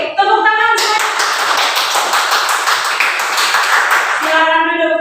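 Classroom applause in a practice teaching lesson: a dense, steady burst of many hands clapping that starts sharply and holds for about three and a half seconds before cutting off, with faint background voices at either end.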